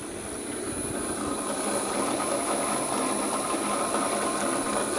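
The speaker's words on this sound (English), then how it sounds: "It's just a diaphragm short stroke pump." An old, worn diaphragm short-stroke pump on an Anderson steam cleaner runs with a continuous, even mechanical whir and hum that stays steady throughout.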